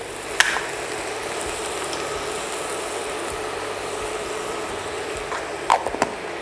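Mushrooms fry in a pan with a steady, close sizzle and crackle, broken by a couple of sharp clinks of a utensil against the pan near the start and end.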